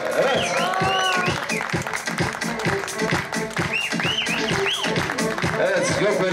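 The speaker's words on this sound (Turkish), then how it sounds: "Alkış gelsin, alkış" A crowd claps rhythmically and steadily, with voices and some cheering mixed in throughout, at a 50th wedding anniversary celebration in Malatya, Turkey.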